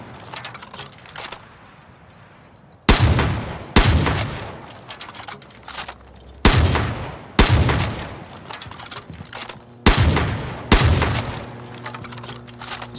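Elite weapons in the game Far Cry New Dawn fire six loud, booming shots in three pairs, each with a ringing tail. Quiet clicks and handling noises fill the gaps between shots.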